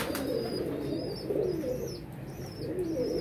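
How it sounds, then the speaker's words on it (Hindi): Several pigeons coo close by in repeated low, throaty rolling calls, a soft cluster of overlapping coos with faint higher chirps above, no talking. "मैंने कहा चलें कबूतर खोल के बैठते हैं, इन्हें उड़ाते छुड़ाते हैं।"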